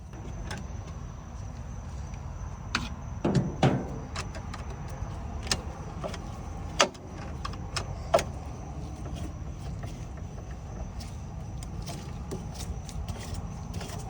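A Whirlpool/Maytag washer agitates after its shift actuator is replaced, with a steady low motor rumble running throughout and sharp mechanical clicks and knocks scattered irregularly over it, close by and fairly loud, with no voices.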